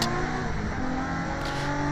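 Race car engine droning steadily at Snetterton during a Classic Thunder and BOSS round, a continuous loud roar with a brief brighter burst near the end as one car laps another.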